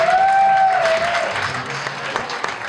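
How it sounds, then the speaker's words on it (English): An audience at a Christmas concert applauds in a broad, steady wash of clapping that slowly thins, with a brief whistle-like tone at the very start. "Let's give a round of applause to Eldon Fox for putting this evening togeth"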